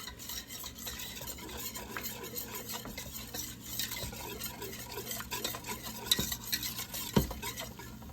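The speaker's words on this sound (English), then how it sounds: "I'm just going to gradually start kind of whisking it in" A whisk beats milk into sausage gravy in a pan, producing continuous rhythmic scraping and swishing with light metallic clicks and a faint sizzle, close up and without talk.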